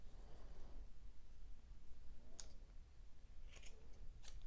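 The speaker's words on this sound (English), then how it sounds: "just wherever there are long ends, just trim them so everything is even" Scissors trimming the long yarn ends of a pom-pom for a knit beanie: a few quick, faint snips near the end, over a steady low background hiss.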